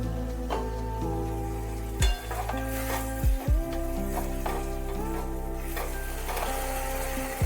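Aubergine curry sizzling and frying in a pan while being stirred, a steady hiss broken by several scraping stirs and clatters of the utensil against the pan, close and clear.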